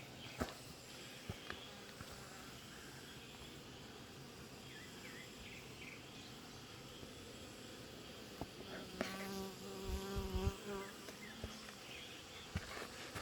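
Honeybees buzzing around a beehive, a faint continuous drone with occasional louder individual bees passing close and some handling noises near the end.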